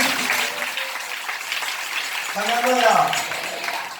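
An audience at a Telugu Christian gathering claps in sustained, dense applause close by, while a voice speaks over the clapping.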